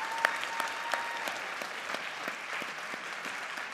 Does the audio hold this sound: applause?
yes